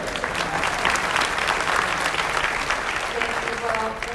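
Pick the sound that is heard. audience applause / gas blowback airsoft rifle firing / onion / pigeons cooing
audience applause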